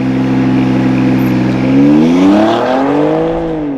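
A BMW X4M launching under launch control, boost built to about 3,000 RPM, its engine roaring loud and close as the revs climb steadily in pitch, dip at a gear change, then rise again.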